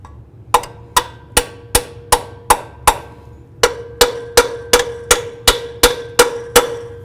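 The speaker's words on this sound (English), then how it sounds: "we're going to hit them with a hammer from the back side towards the front" Sharp metallic hammer blows ring out in a steady series on a Chevy S-10 alternator bracket, about fifteen strikes with a brief pause midway, each with a short clanging ring.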